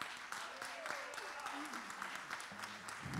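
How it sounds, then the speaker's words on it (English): A church congregation applauds the ushers as they come forward for the tithe and offering, a soft, diffuse patter of hands that holds steady for a few seconds with some voices mixed in. "Let's give them a hand clap."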